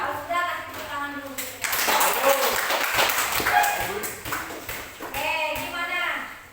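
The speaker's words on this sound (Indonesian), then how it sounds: "Kalau sudah kasih tepuk tangan dulu" Middle-school pupils in a classroom clap together for a few seconds, a dense burst of applause that fades back into chatter and voices.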